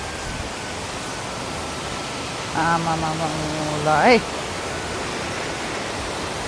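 A large, steep mountain stream rushes without letup, a broad constant roar close by, while a woman briefly calls out over it and a higher tonal voice rises near the end.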